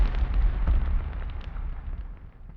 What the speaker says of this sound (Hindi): तभी पहला विस्फोट होता है,